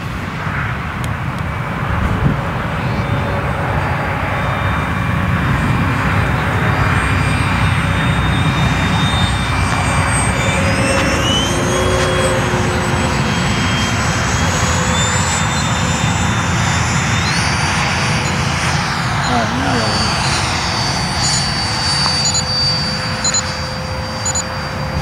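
A Freewing F-22 RC jet flies at dusk over an RC club field in Florida, its ducted-fan whine loud and continuous, rising and falling in pitch as it passes, with no talk.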